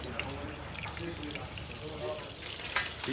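Chicken sizzles and crackles in a frying pan, a steady hiss beneath a voice speaking.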